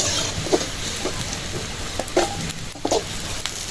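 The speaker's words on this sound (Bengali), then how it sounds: "মরিচ পেঁয়াজ ভাজা হয়ে গেছে" Chili and onion frying in oil in a home kitchen, a steady close crackling sizzle with a few sharper pops and stirring scrapes, no talking.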